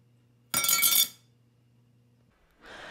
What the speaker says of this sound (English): so you can hear what the card sounds like when it's dropped.